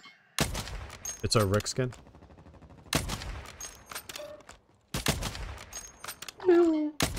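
Bursts of automatic gunfire in Warzone ring out in several loud volleys separated by short quiet gaps, with players talking between and over the shots.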